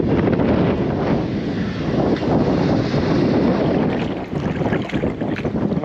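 Strong wind buffeting the microphone on a beach at Playa de Mar Chiquita in Puerto Rico, a loud, steady roar of gusts with no speech.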